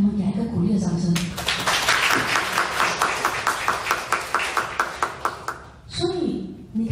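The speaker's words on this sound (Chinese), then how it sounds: "来，我们给一个鼓励的掌声。" Audience at a business event in Singapore breaking into encouraging applause, with a roughly even rhythm of claps that start after a spoken line, continue for several seconds and then fade out.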